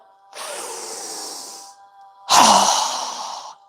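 Two long airy breaths during a yoga breathing exercise, a steady inhale followed by a stronger, louder breath, close and clear with no talking.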